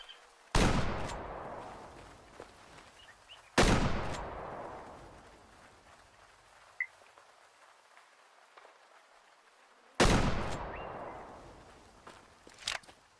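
Three loud, separate hunting rifle shots at animals in Way Of The Hunter, each a sharp crack with a long rolling echo across open country, widely spaced, with faint ambient noise and a small click in between.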